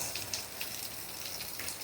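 Heavy morning rain in Jamaica falls as a steady, faint hiss of drops on surfaces, continuous and even with a few brighter patters, with no voices over it.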